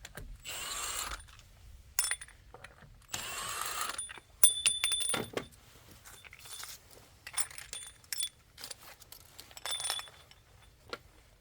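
Tools work on a wheel of a 2003 Cadillac CTS during a rear brake replacement, with bursts of ratcheting, metallic clinks and rattles of sockets and lug nuts, close and intermittent.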